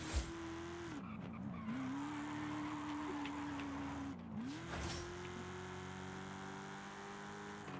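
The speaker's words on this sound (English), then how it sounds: "this is a 1995 Corvette" A 1995 Corvette driven in Forza Horizon 5, its engine holding a steady drone that dips briefly twice as it shifts or slows, with faint tire noise, loud and close throughout.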